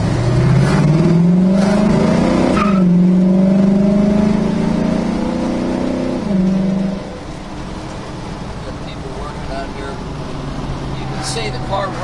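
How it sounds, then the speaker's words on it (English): A 1965 Ford Mustang with a small block V8 revs loud and close, climbing in pitch through a gear, dropping on a shift, then pulling again and settling into a steadier drone. "It's a nice, strong running small block Ford."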